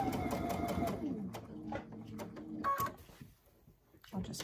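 A sewing machine stitches and backstitches over twine on a spool-finish craft, giving short mechanical whirring runs with pauses in between, moderately quiet and close, while a person talks over it.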